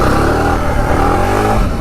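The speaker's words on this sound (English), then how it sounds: "let's saddle up and take it out for a quick ride" A Suzuki DR650 dual-sport motorcycle with a freshly repaired cush drive accelerates nearby, its engine note loud and steady as it rises under throttle throughout.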